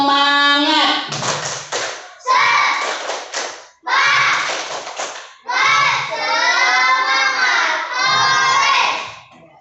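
Pupils at SDN 06 Pemudang primary school do a spirited group clapping chant, with loud bursts of claps and shouts from many children arriving in four or five surges, and voices chanting and cheering over the clapping throughout.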